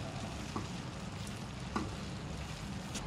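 Urad dal with ginger and green chillies is stirred in a pot, giving a faint, steady sizzle with two brief scraping clicks from the stirring.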